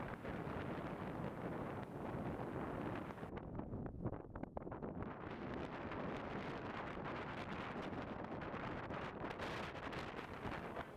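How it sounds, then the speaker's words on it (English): Strong, steady wind gusts roar and buffet the microphone on a hillside disc golf course, a loud continuous rushing with no talking. "this wind is getting crazy"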